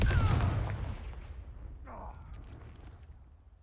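A Confringo blasting curse goes off with a heavy booming explosion that rolls away into a long fading rumble, followed by a brief whooshing swell.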